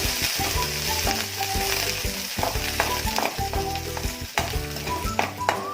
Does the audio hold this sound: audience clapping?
no